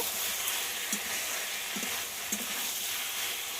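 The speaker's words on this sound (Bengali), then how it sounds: "মশলাটা ফুলকপি আলুর সঙ্গে খুব ভালো করে কষিয়ে নিয়েছি" Spices sautéing with cauliflower and potatoes in a pan, a continuous even sizzle with occasional soft spatula scrapes and taps, no voices.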